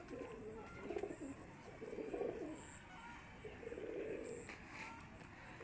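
Pigeons coo outdoors in a few soft, rounded phrases at moderate distance, with faint chirps and light background noise between the calls.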